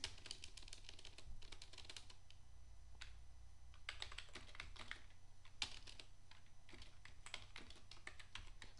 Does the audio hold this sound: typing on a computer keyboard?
yes